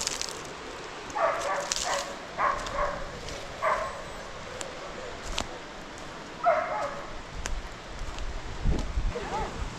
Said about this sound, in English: He's just a puppy, he's just a big dog.